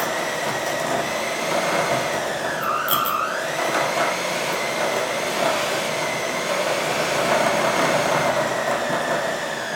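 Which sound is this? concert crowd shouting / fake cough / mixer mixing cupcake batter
mixer mixing cupcake batter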